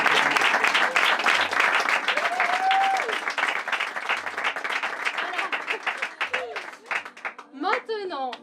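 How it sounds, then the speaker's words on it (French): A theater audience applauds at the end of a comedy show, a dense, loud wave of clapping that gradually thins and softens toward the end, with a few voices cheering over it. "Maintenant, c'est à moi de vous applaudir"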